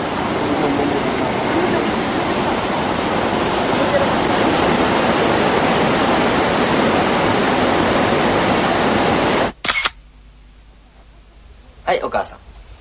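Kegon Falls in Nikko pours as a steady, loud rushing roar of falling water that runs for most of the stretch, then cuts off abruptly into near quiet with a couple of brief bumps.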